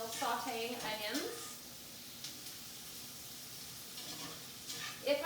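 Onions sauteing in a skillet for burger sliders, a soft, steady sizzle running under a person talking nearby.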